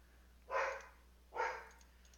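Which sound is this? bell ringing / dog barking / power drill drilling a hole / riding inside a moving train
dog barking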